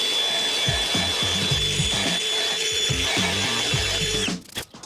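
A drill fitted with a small cutting bit grinds steadily through ceramic tile while building a tiled wall niche, a loud, continuous whine with a low wobbling pitch that cuts off sharply near the end, followed by a few brief clatters.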